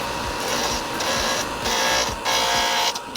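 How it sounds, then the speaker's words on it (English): A coarse-grit power sander shapes a wooden monkey figurine, giving a loud, continuous buzzing whir that changes pitch slightly as pressure shifts, with no talking. "The first sander I used gave it a nice rough shape to it."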